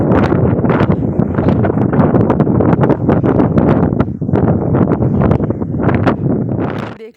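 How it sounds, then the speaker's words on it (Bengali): Strong wind buffets the microphone in loud, continuous roaring gusts with rapid thumping bursts throughout. "হাওয়ার আওয়াজ তোমরা শুনতেই পাবে কীরকম হাওয়া চলছে"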